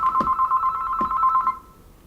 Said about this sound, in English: I'm going to let that Call stop from ringing.